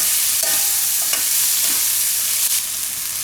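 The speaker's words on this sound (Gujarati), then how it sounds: "હવે ટમેટાને થોડી વાર પકવા દઉં 1-2 મિનિટ માટે" Tomatoes cooking in a pan for bhurji fried rice, a loud continuous sizzle with a few scraping stirs of a utensil, no voices.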